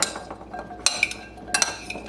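Radishes are tossed with olive oil in a dish, bringing a few light clinks and taps of utensils against the dish in quick, close succession.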